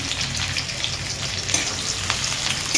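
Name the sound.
onions and vegetables frying in a pan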